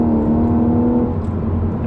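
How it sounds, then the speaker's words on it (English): Audi S4 Avant Black Edition engine with a completely stock exhaust, heard as a steady, loud, throaty drone close to the car, holding an even note with no talk over it. "The party piece is the noise that engine makes. I've got a completely stock exhaust on here"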